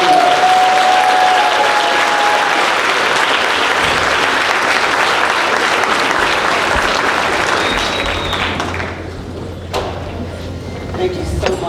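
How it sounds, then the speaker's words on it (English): Loud, sustained applause from a convocation audience welcoming Dr. Miranda to the stage, a dense wash of clapping that thins slightly near the end as a few louder claps stand out. "Please join me in giving a loud round of applause for Dr."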